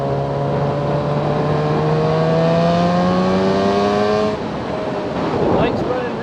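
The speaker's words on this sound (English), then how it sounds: "The bike's running real good. It's running real strong." A Yamaha FZ6R motorcycle engine runs steadily while riding on a country road, a loud continuous drone with rising harmonics as it accelerates, then a shift to a lower, rougher tone near the end.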